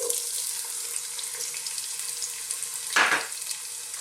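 Onions frying in sunflower oil in a large pot give a steady, close hiss, and near the end a louder burst of sizzling rises briefly before settling back. No one speaks.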